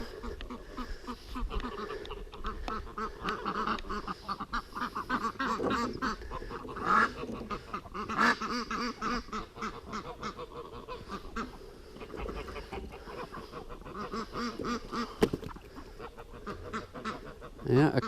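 Geese and ducks being herded at dusk keep up a busy, overlapping chorus of honks and quacks, with a few louder calls standing out, while people talk over the flock throughout.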